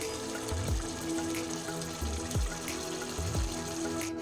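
Boal fish curry simmering over a raised gas flame, steady bubbling with soft popping blips and a faint burner hiss, close and continuous.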